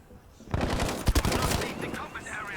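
A Breda PG 1935 fires a rapid burst in the video game Battlefield 5, a cluster of closely spaced gunshots with a dense rumbling tail.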